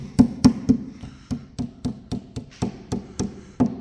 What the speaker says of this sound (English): I've got just this little piece that I've got to hammer into this corner